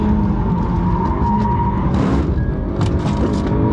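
A VTEC hot hatch launching off the line in a race gives a loud, continuous engine roar with rough tyre noise, close and steady throughout, with a brief surge partway through and no talking.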